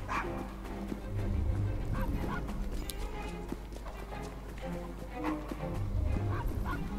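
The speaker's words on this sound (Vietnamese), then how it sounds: "Thôi giờ mới thấy con chó nó hữu ích, biết la lên đồ." A dog barks repeatedly in the Assassin's Creed Syndicate video game, several sharp barks over busy game ambience with clopping hooves and a low rumble, fairly faint overall.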